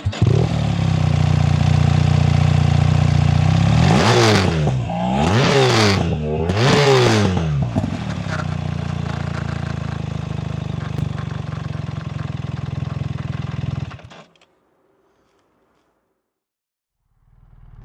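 A BMW R1300 RS boxer motorcycle engine idles with a deep, steady thrum, is revved hard three times in quick succession, settles back to idle, then cuts off to silence.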